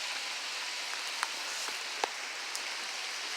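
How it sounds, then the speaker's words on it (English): Rain falls steadily on palm plants outdoors, a soft continuous patter with a few sharper, louder drops landing close by, and no voices. "This is palms in the rain, I guess"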